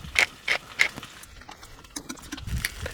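A pepper grinder is tightened, then grinds peppercorns finely: three sharp ratcheting clicks up close, followed by softer, irregular crunching.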